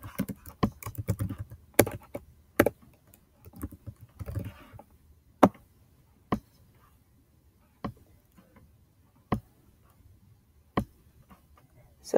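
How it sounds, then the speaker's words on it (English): Student names are typed on a computer keyboard in scattered bursts of clicking, followed by single sharp key taps spaced a second or so apart, close and clear in a quiet room. "we're going to type in a few students."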